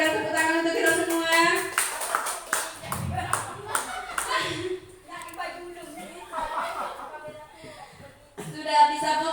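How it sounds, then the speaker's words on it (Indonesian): Indoor audience clapping hands in bursts, a crowd of adults applauding between stretches of speech, moderately loud with some chatter mixed in. "Berikan tepuk tangan untuk kita semua."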